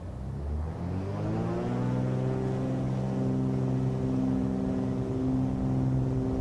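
Twin engines of a Cessna 414 at full takeoff power in Microsoft Flight Simulator: a steady, loud droning hum with rising harmonic tones as the props spool up, continuous and unbroken.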